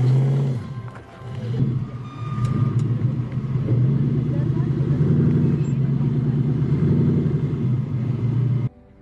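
A 4x4 vehicle's engine labors at an off-road challenge course, a steady, close, loud growl that holds through the clip and cuts off near the end, with a voice heard over it.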